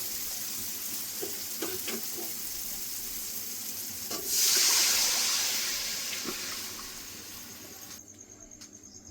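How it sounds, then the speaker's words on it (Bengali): Water poured into hot oil with fried spices for a Bengali egg curry bursts into a loud, hissing sizzle midway, swelling then slowly fading into a steady bubbling fry; no voices. "জল দিয়ে দেবো।"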